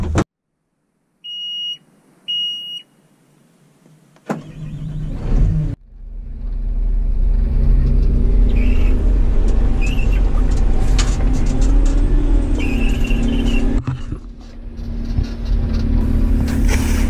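John Deere 670G motor grader on a test drive after transmission calibration, a steady loud diesel engine rumble from the cab with beeping alert tones at the start, continuous and close.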